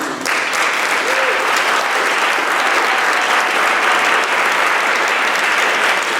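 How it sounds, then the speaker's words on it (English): An audience at an evening event in Buffalo gives a guest speaker a loud round of applause: dense, sustained clapping that holds steady for over six seconds, with no talk over it. "I want you to join me in giving a huge round of applause for our featured guest speaker"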